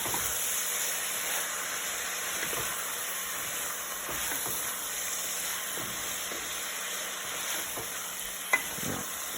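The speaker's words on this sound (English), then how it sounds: "Now just mix it very well" Chicken curry stirred in a pan over a steady sizzling hiss, with soft scraping strokes spread through and one sharp clink near the end, close and fairly quiet with no talking.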